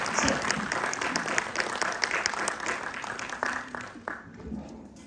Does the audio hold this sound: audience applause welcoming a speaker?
yes